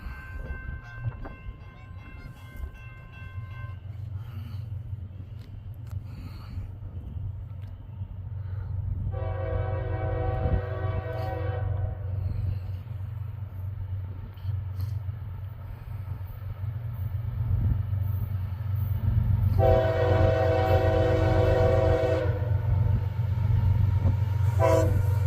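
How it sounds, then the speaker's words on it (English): A westbound mixed freight train rumbles past at Indian Hollow Road in Ohio, its heavy low roar building steadily as the locomotive horn sounds two long, loud blasts. "This looks like it could be a little bit of everything train."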